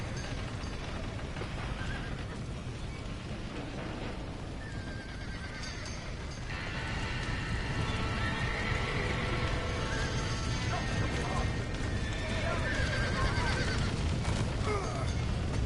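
A horse whinnies repeatedly in Red Dead Redemption 2 over a steady, busy background of hooves and game noise, loud and close throughout.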